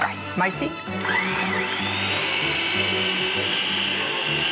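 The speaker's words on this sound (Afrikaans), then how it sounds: "en nou gaan ons hulle net lekker in ons blender te mekaar laat" A blender mixing eggs whirs loudly and steadily after a brief start, its motor pitch rising then holding, with a short spoken word near the beginning.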